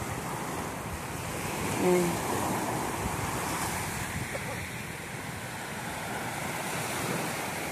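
Ocean waves rolling onto a beach shore in the Philippines while waiting for a fishing boat, a steady broad wash of surf with wind noise, and a voice speaking briefly near the start.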